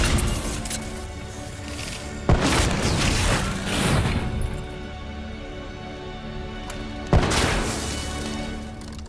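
Gunfire and explosions from the Call of Duty Black Ops 3 video game: dense, loud continuous battle noise with two sharp blasts punctuating a constant roar of shooting and rumble.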